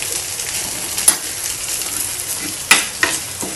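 Beef liver frying in a pan while being stirred, a steady sizzle with a few sharp scrapes of the spoon against the metal, close and fairly loud, no voices.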